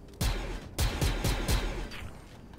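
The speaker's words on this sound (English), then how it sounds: "They're still getting shot at from somewhere." Video game gunfire comes in four sharp, loud bangs at irregular intervals, each followed by a short rumbling tail, with no talking.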